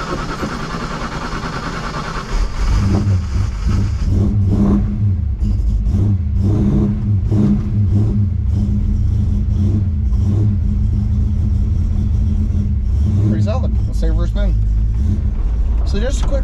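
A 1988 Fox body Ford Mustang's rebuilt V8 roller motor with a Comp camshaft and 4-barrel manifold catches and rumbles loudly nearby, bumped and revved in uneven surges, with talking mixed in.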